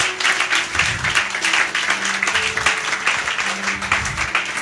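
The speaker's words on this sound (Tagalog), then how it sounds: "Kaya palakpakan natin ng pinakamalakas sa palakpak si Lord." A church congregation applauding during a sermon, a loud, continuous mass of clapping with pulsing swells, heard close and filling the room, with a few faint voices mixed in.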